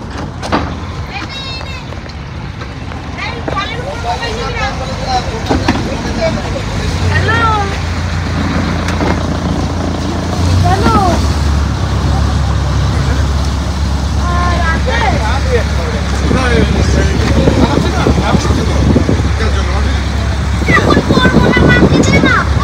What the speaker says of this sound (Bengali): এই যে লঞ্চ বেরিয়ে পড়লো।